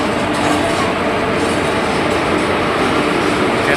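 A train arriving at Tenali railway station, a loud, steady rumble of rolling wagons that fills the scene from start to finish without any speech.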